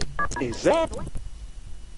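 A phone's keypad in The Sims Pet Stories sounds a few quick dialing beeps, followed by a short rising electronic tone, while someone talks over it.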